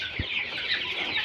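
Colour bird chickens cluck close by at midday after fresh feed and water, a brief run of soft, throaty clucks over a quiet farmyard background.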